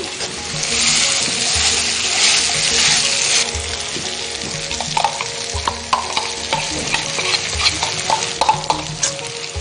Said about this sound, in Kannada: ಇದು ಒಂಚೂರು ಮ್ಯಾಶ್ ಮಾಡಿಬಿಡ್ತೀನಿ